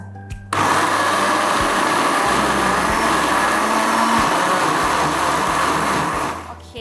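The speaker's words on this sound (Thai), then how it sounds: "ขออนุญาตปั่นก่อนนิดนึงค่ะ" A countertop blender purées tomato soup, starting abruptly and running as a steady, loud whirring roar for about six seconds before winding down, with faint low thumps from the blades churning the liquid.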